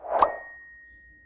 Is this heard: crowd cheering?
no